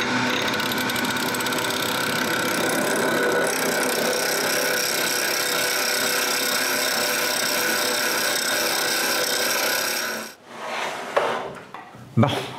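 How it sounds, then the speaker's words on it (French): A wood lathe turns a tool-handle blank into a cylinder, giving a steady, close whirring cut with a rasping edge for about ten seconds. The lathe then winds down, and brief handling noises follow. "je finis de tourner un beau cylindre"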